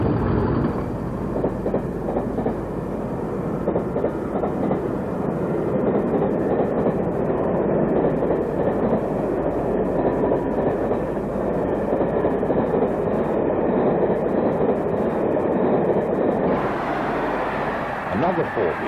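A British Rail diesel locomotive departing northward, producing a loud, continuous low engine rumble and roar that holds steady, with a brief shift in tone near the end.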